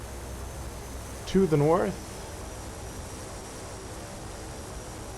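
Simulated Cessna 208 Caravan turboprop taxiing in X-Plane 11, a steady even engine drone and hiss running throughout, with someone talking briefly over it.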